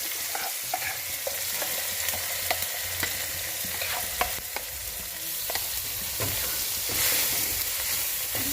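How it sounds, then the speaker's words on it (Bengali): Red chili powder and sambar masala sautéed in a pan sizzle and fry steadily, with repeated scraping stirs and sharp clicks throughout, close and loud, no voices. "কষাতে থাকবো। মশলাটা আমার পুরো কষানো হয়ে গেছে।"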